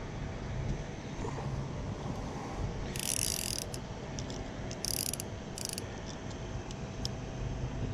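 A 3-jaw universal oil filter wrench driven by a ratchet clicks in short bursts of mechanical ratcheting against an oil filter, close up over steady low background noise, with no talk.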